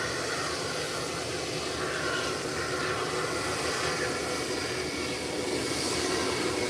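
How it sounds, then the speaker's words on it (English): An aircraft takes off from an airport runway, a loud continuous engine roar holding steady throughout with no pauses. "Nice takeoff."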